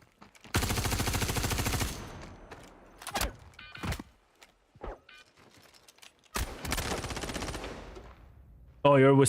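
Gunfire in a shooter video game, including a PTU .22: long rapid automatic bursts separated by single loud shots and short clatters, then another sustained burst before a sharp tonal sound at the end.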